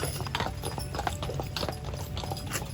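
Horse hooves clip-clopping on a street on Mackinac Island, Michigan, a steady close rhythmic clatter that continues throughout without talk.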